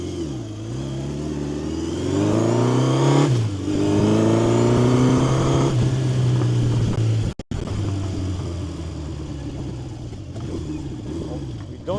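A 1970 Honda CB750 K0 motorcycle with a fully rebuilt engine runs steadily, its exhaust note rising and falling through several throttle blips, loud and close, with a brief cut near the middle.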